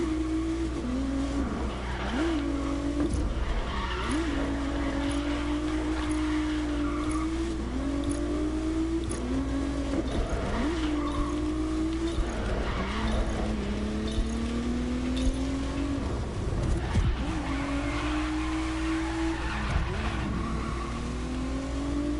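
A race car drifts in Grid Legends with tires squealing in long, wavering screeches over a steady, droning engine roar. Repeated slides and revs run throughout, loud and unbroken, with no voices.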